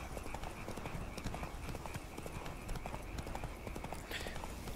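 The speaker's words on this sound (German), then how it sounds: "Ich könnte jetzt 80 Rennen am Stück durchgaloppieren." Horse hooves galloping in The Witcher 3, a steady fast clip-clop rhythm running the whole time beneath dense game ambience and music, with a faint whinny possible near the end.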